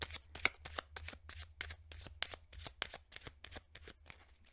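A deck of Kipper cards is shuffled in a quick, even run of crisp riffling flicks, close and fairly quiet, with no talking.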